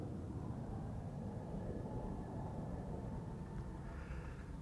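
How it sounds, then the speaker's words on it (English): Airbus A350 jet engines spooling up for departure at Amsterdam Schiphol Airport, a steady distant broadband roar with a faint rising whine, heard alone. "A350 is already spooling up"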